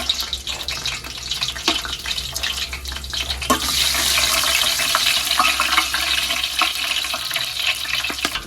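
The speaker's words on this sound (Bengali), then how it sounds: "তেলে দিয়ে দিব গরম মশলা আছে, শুকনো মরিচ, দারুচিনি, এলাচ, জিরে" Whole spices for chicken biryani, dry chillies, cinnamon, cardamom and cumin, frying in hot oil, a continuous hissing sizzle that swells louder partway through, dotted with sharp pops and crackles, no talk.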